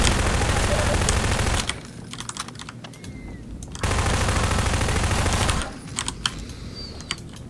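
Shotgun blasts in Half-Life 2 come as two long, loud bursts of dense rapid firing, each followed by quieter pauses with scattered small clicks.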